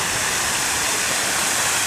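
Steady rushing splash of small decorative waterfalls at a Royal Dragon hotel in Side, Turkey, a continuous broadband wash of falling water close by with no voices.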